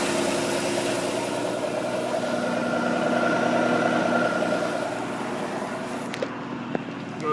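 Ski boat's 4.3-liter Chevy engine idling steadily, a quiet, even low rumble close by throughout, with a couple of small clicks near the end.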